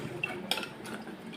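A utensil stirs tamarind water into a simmering fish curry, giving a few soft clinks and scrapes against the pot over a quiet liquid background.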